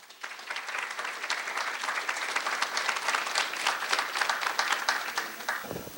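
Conference audience applauding to welcome speaker Roberto Rivera: a sustained, dense round of clapping that swells in quickly, holds steady for several seconds, then tapers off near the end.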